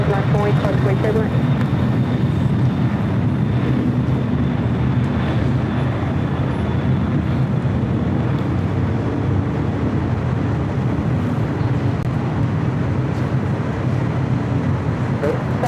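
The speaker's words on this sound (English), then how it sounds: "6086 taking off to Luxembourg, the 747-400 freighter." A Boeing 747-400 freighter takes off from LAX runway 25 right, a steady, dense jet roar filling the whole stretch without letup, with voices faintly mixed into the constant rumble.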